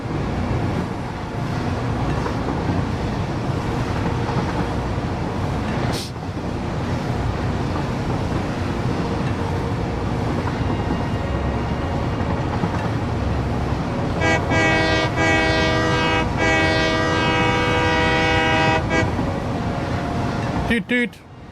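A train in the Satisfactory video game rumbles past steadily and loudly for a long stretch, with a sustained horn blast near the end before it cuts off; a voice talks over part of it.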